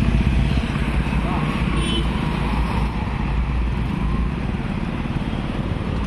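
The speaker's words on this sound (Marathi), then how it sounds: "Indian ॲग्रोची 2 wheeler motorcycle bike trolley." A two-wheeler motorcycle fitted with an Indian Agro bike trolley, its engine running in a continuous loud, close drone with rough low-end rumble throughout.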